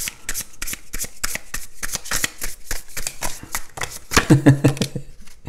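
Tarot cards being shuffled by hand: quick rhythmic riffles and slaps of stiff cards, close and crisp, ending with a brief soft voice sound.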